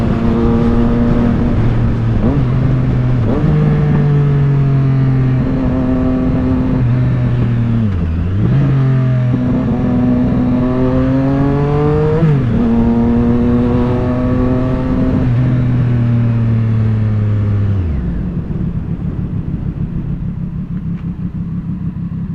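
Triumph Street Triple 765RS motorcycle fitted with an SC Project exhaust, close and loud, revving up through the gears with rising engine pitch and shifts, then settling into a lower rumble.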